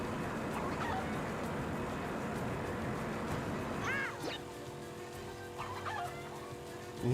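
Chickens in the video game Crash Tag Team Racing, with repeated clucks and squawks from a few birds over a steady noisy background, no talk.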